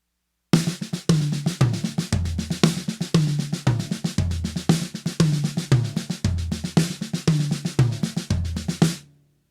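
Fast, steady drum pattern with sharp snare hits and louder accented strokes, played alone and continuously for several seconds.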